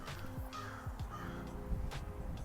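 A crow caws outdoors several times in a loose, irregular series of harsh calls, moderately distant, set against a low background hum with a faint voice underneath.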